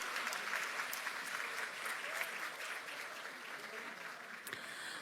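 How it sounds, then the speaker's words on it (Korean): Crowd at a Democratic Party 70th anniversary ceremony gives a round of applause, dense and even clapping from many people that carries steadily and eases slightly over five seconds. "다시 한번 큰 박수 부탁드립니다"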